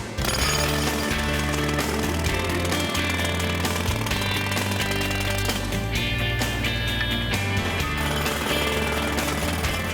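A jackhammer pounds asphalt to break up a pothole. The hammering is loud, continuous and rapid, and it stays close and unbroken throughout.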